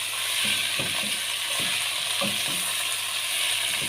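Chopped mustard greens are stir-fried in hot oil in a pan, giving a steady sizzle broken by irregular scraping and tossing clicks from stirring, close and continuous with no talking.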